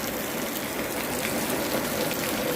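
Steady rain falls in Laos, a dense, even patter of drops on surfaces with no pauses or voices, close and moderately loud throughout.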